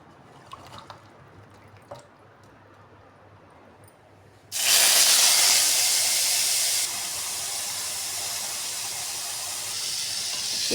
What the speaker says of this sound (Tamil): இப்போது பீர்க்கங்காயை வதக்கி எடுக்கணும்.